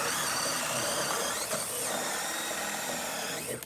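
A DeWalt drill bores a 2 9/16 hole while held one-handed, a loud, continuous grinding whir that holds steady under load for over three seconds, then drops away sharply at the end.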